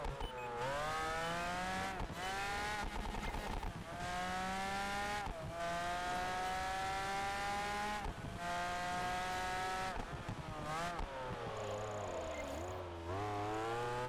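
A racing car in Project Gotham Racing 4 revs hard through repeated gear changes, its engine pitch climbing and dropping steadily, with tyres squealing as it slides, loud and continuous.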